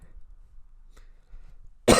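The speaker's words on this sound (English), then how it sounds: "Apologies for that cough." A single sharp cough bursts out at the very end after near silence with faint low rustling, close and loud.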